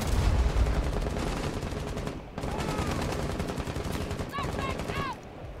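Rapid automatic gunfire rattles in the Rainbow Six Siege video game, loud and nearly continuous with a brief pause midway and a few ricochet-like whistles near the end. No one speaks.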